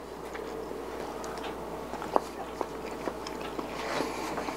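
Someone bites into a steamed potato from a wok-steamed seafood boil and chews it, a few soft moist bites and faint chewing sounds up close over a low steady background hum.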